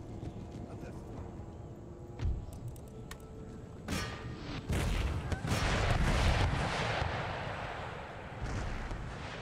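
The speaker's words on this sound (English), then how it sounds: "Howitzer switched to round shot." Howitzer artillery firing round shot in Empire Total War booms amid a battle din of scattered cannon reports and rumbling, with a voice talking over the distant fire.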